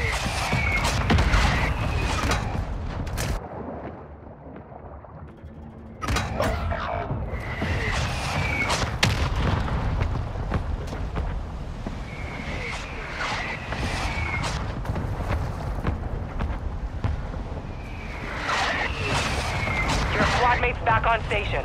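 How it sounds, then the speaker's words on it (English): Mortar strike explosions in Call of Duty, a long stretch of heavy booms and scattered gunfire rumbling under frequent talking voices, dipping briefly before the barrage resumes. "Our mortar strike is inbound."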